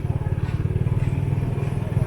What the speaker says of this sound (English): Now we're just driving out of town here.